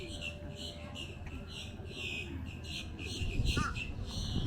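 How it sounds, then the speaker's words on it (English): Doves at a Florida roadside attraction give soft, low cooing calls. The calls are faint and mixed into steady background noise, with people talking nearby. "Pigeons. Doves. Yeah, that's doves."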